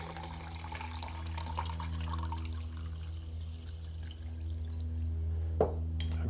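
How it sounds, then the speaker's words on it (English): Homemade pine needle soda poured through a steel strainer into a glass, a faint trickling pour with soft drips over a low steady hum, ending with a brief clink. "We're just going to pour our drink in and we're going to check for carbonation."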